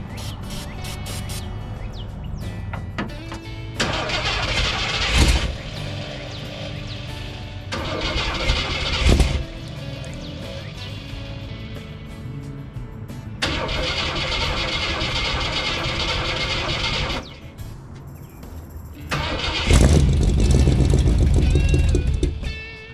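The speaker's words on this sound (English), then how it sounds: "I got the engine to start off with starting fluid" A Jeep J10 engine running on starting fluid cranks, catches and revs in repeated surges, loud and close. It rises and falls through several bursts over a steady mechanical background.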